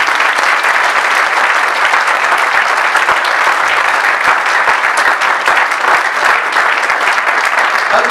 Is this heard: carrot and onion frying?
no